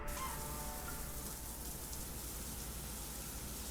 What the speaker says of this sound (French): Pourquoi c'est éclabousse comme ça? Mais j'en mets partout de l'eau là.